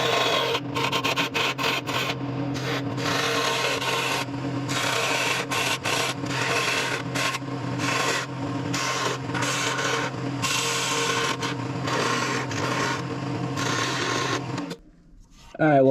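Sandpaper rubs against the top of a wood piece spinning on a lathe between centers, a continuous close raspy hiss with a motor hum beneath, broken by short gaps, then fading out near the end.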